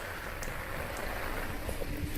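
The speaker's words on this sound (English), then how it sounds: "So this is a really, really hard rain." Hard rain pours down steadily in a yard, a dense, constant wash of falling water with scattered drips and splashes, fairly loud and close with no voices.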